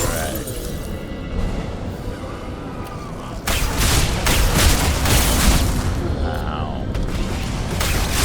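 Mass Effect 2 combat: quieter noise at first, then a sudden loud crash at about 3.5 s followed by dense gunfire and explosive rumble, with a brief spoken exclamation.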